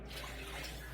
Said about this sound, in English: So let me pour this in.